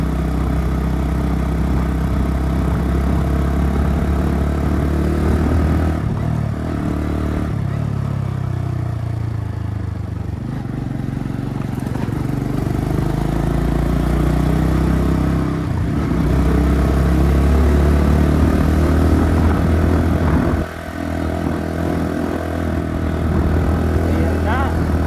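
Honda CB110 motorcycle engine running in third gear while riding, a loud, steady mid-range drone with slight rises and dips in pitch, close up, and someone talking over it at times.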